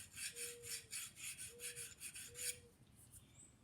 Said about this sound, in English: I would take a fine file.